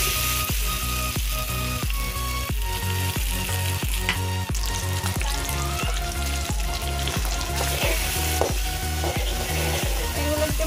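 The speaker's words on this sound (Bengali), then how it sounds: "এগুলো একটু ভালো করে নিয়েছে, আবার একটু ভেজে নিচ্ছি।" Meat and egg frying in a wok for a macaroni dish, with a steady loud sizzle and regular stirring scrapes repeating about every half second, close and continuous with no talk.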